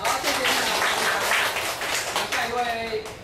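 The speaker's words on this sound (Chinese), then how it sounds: "掌声鼓励" Audience applause at a mind-mapping creativity class, a burst of clapping that swells early and tapers off, mixed with people talking.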